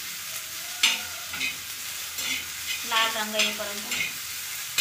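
Chopped onion and ginger fry in a pan for a brinjal and potato curry: a steady soft sizzle broken by a few spatula stirs and scrapes, with a person speaking briefly over it.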